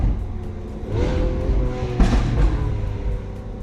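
A performance car's engine revs in a shop, a loud close throaty rise and fall with a sharp blip midway, heard alone without talk.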